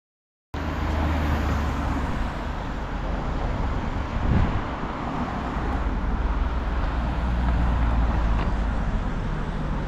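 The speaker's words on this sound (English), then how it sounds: "And now we're driving to a small town." A car travels toward a small town near Bad Tölz and Tegernsee, with a steady, close rumble of road and wind noise that holds for the whole stretch and includes a brief bump midway. No one speaks.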